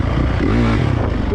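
A dirt bike runs around a motocross track with jumps and berms, its engine a loud, close, continuous drone that rises slightly in pitch mid-way, mixed with rough clattering.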